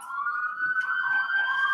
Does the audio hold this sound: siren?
yes